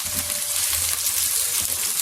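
Onions hitting about half a cup of hot oil for a homemade chicken biryani make a loud, dense, continuous sizzle, close and steady with no talking.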